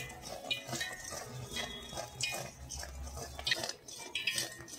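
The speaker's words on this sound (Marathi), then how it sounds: "आता व्यवस्थित मिक्स करून घ्यायचं आहे 2 मिनिटं" Mysore pak mixture, with a ladle of oil just added, stirred in a pan for a couple of minutes: a steady scraping and clinking of a spoon against metal, with soft continuous rustling.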